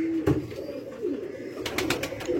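Ferozpuri breed pigeons coo softly in a loft, a few low, rounded calls spaced through a steady background murmur, with some brighter flutters near the end.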